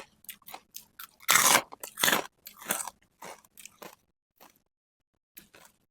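Crispy charcoal-fried food is bitten and chewed up close, giving several sharp, loud crunches followed by quieter, fading chewing crackles.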